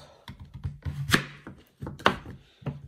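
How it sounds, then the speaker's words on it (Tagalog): A knife slicing through a peeled sweet potato (kamote) on a cutting board, a series of close, crisp thunking chops in an irregular rhythm, with no voices. "Pagkatapos natin mabalatan yung ating kamote, hiwain na natin siya ng pa ganito."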